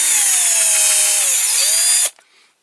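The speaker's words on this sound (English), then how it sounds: "I'll drill that one a little bit more." Power drill boring a hole in a die-cast Dinky Toys Coventry Climax fork lift truck model, a loud steady whine for about two seconds that cuts off abruptly, followed by brief faint rattling.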